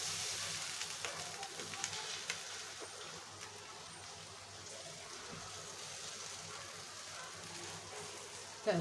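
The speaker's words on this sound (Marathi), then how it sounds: "तव्यात तेल टाकून थालीपीठ टाकून घेऊया." Thalipeeth fries in oil on a griddle with a steady, faint, close sizzle and crackle and no voices over it.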